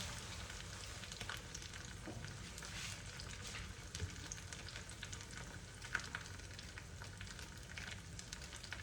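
A paratha sizzles on a hot pan, a continuous soft frying hiss and crackle, close but faint, with occasional small ticks and pops and no talking.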